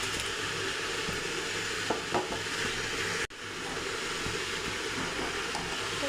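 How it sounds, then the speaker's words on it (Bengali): Rice simmering in boiling milk for date-jaggery payesh, a steady close bubbling and hissing rumble with faint stirring clinks, one brief dropout midway. "এই যে দেখুন, চালটা ফুটতে শুরু করেছে।"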